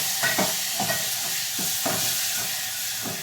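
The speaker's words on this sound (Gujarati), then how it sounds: "મારી દીધો તડકો" Hot oil sizzles steadily as mustard seeds are tempered for a tadka, after the gas has been turned off. A constant hiss fills the clip, broken by repeated scraping stirs. There is no talking.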